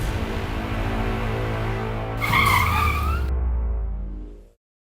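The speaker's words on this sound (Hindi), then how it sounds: "सर गाड़ी क्यों रोक दी?" A car brakes to a stop with a loud tire skid that rises over the idling engine rumble midway, then the sound cuts off abruptly.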